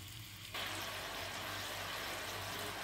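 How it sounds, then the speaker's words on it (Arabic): Water is poured into a kettle in a kitchen, a steady close splashing rush that begins abruptly after a half-second and continues evenly. "اجيب بقى البراد واحط فيه ميه"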